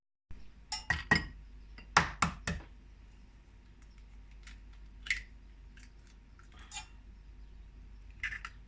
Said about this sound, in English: I'm just going to separate all of these eggs